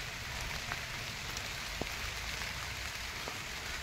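Rain falls steadily outside on custard apple trees, a soft continuous hiss with a few scattered louder drips, faint and even throughout with no speech.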